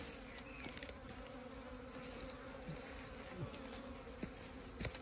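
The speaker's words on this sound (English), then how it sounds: "the bees are kind of busy at the front of there" A swarm of honeybees hums around the entrance of a bait hive outdoors, a steady, dense drone with individual bees zipping past close by now and then.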